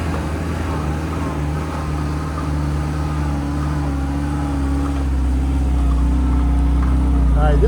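Suzuki Samurai engine labouring steadily in 4-low second gear with lockers off as it climbs a steep sand dune, a continuous low drone that swells slightly louder toward the end, with someone talking over it.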